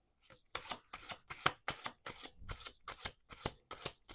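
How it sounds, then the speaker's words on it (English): Tarot cards shuffled by hand in about ten crisp, evenly spaced riffling bursts, close and quiet with no talking. "Let's do two more shuffles."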